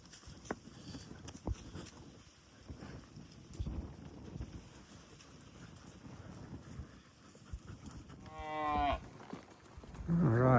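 Cattle gathered on a steep hillside in fall, with a loud close moo near the end over faint wind and rustling background noise.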